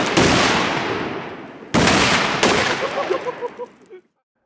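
Old explosives dug up while metal detecting detonate after being thrown into a fire, giving two sharp loud blasts about a second apart followed by a run of smaller popping bursts that fade out.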